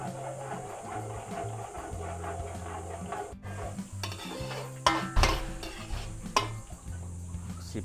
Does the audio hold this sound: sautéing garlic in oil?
yes